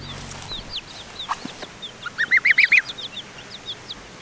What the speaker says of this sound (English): That's a brown leghorn.